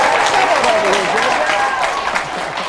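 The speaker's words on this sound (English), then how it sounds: "a big round of applause, everybody, for J.J. Licitra" A studio audience applauds to welcome a game show contestant, steady broad clapping from the crowd throughout, fairly loud and close, with some voices mixed in.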